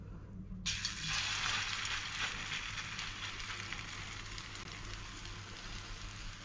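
Batter hits hot soybean oil and sets off a sudden, steady crackling sizzle that continues evenly for several seconds, close by and with no one speaking, in a pan for a potato, egg and prawn dal.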